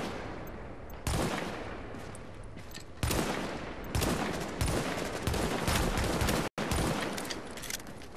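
Gunfire in The Division's Dark Zone: sustained loud bursts of automatic weapon fire with sharp onsets at irregular intervals, dense and close, with a brief cut near the end.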